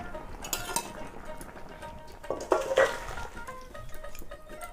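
Metal clinks and clatter as a pot of boiled papaya is lifted off a village stove, a brief cluster of pot and utensil knocks over a quiet background.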